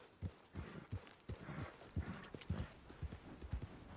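Horse hooves clip-clop in a steady rhythmic trot in the video game Red Dead Redemption 2, quiet and even, with no talking over them.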